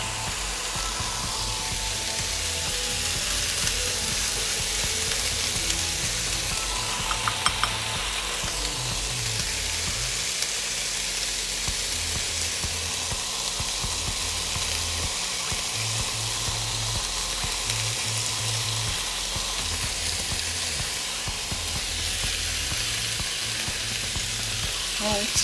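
Oil-brushed khebabs (chinchinga) cook on a hot surface with a constant, even sizzle and crackle that runs unbroken throughout.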